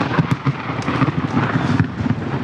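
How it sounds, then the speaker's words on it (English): A very loud clap of thunder crashes directly overhead, a dense, prolonged rumbling roar with crackling bursts and no voices. "That was the loudest clap of thunder I've ever heard, Hutch."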